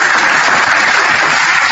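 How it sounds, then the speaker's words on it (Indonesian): Loud, dense applause from an audience, a continuous wash of clapping hands filling the whole moment without any voices over it. "Tepuk tangan dulu"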